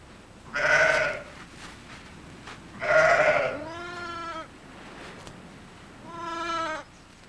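An orphan lamb and upland ewes bleat in several separate calls, some harsh and some clear and wavering, spaced a second or two apart at close range.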